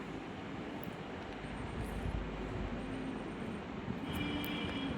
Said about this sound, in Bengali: উঠে পড়লাম ট্রেনে